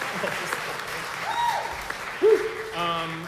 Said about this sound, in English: let's clap for cultural and historical endowments